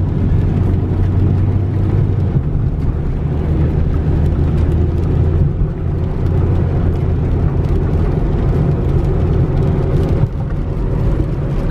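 A 2012 Chevy Camaro ZL1 cruises along a quiet back road, its engine giving a steady low drone with tire and road rumble that holds even and continuous from inside the car.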